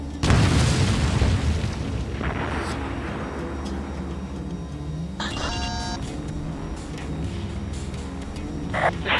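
A destroyed vehicle explodes in the combat flight game Ace Combat Assault Horizon, opening with a loud close boom that rolls off into a rumbling tail, then scattered pops and a faint electronic beep.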